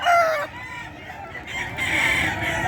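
Roosters crowing at a chicken market in Bocaue, with a loud crow opening the clip, then a busy market murmur and a second rooster crow rising near the end, some clucking throughout.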